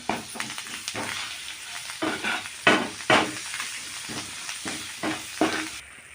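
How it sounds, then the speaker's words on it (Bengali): A spice paste fries in a pan for a raw-banana kofta curry, hissing and sizzling close by in repeated bursts as it is stirred. "মশলাটা পুরো ভাজা ভাজা হয়ে গেছে"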